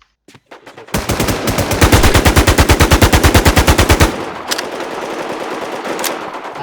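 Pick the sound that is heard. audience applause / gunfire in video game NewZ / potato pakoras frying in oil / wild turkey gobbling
gunfire in video game NewZ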